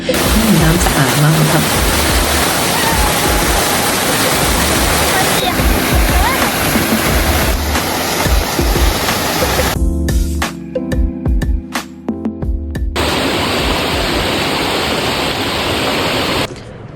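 Lata Bayu waterfall in Baling, Kedah, Malaysia roars as a loud, steady broadband wash of falling water, briefly thinning and breaking up near the middle before returning at full strength.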